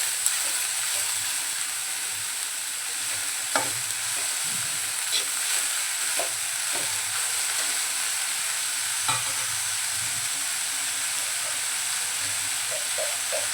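Dry prawns and chopped green onion being stirred in a pan, a low continuous sizzle broken by scattered spatula scrapes and clinks, close and steady without any talk.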